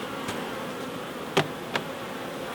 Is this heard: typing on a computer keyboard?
no